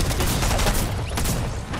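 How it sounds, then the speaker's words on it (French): Loud, dense burst of gunfire and blasts from a grenade exploding in a French-language multiplayer shooter game, a continuous roaring barrage filling the short span with no talk. "Attends, je vais lancer une grenade."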